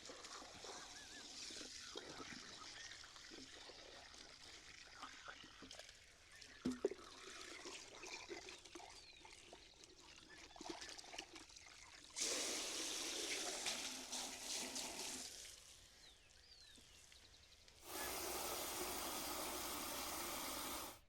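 Water runs from a hose on a farm, hissing and trickling steadily, with a louder, brighter rush in two stretches, under a faint engine-like rumble and occasional clatter.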